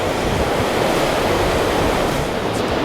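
The River Dee flowing through Llangollen in Wales, a loud, steady rushing roar of moving water with no pauses or voices.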